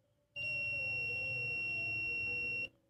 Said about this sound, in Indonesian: Untuk buzzernya tidak terlalu kuat